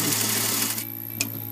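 A sewing machine runs a loose basting stitch along saree fabric being made into a frock, a steady close whirring that slows and stops partway, followed by a brief click.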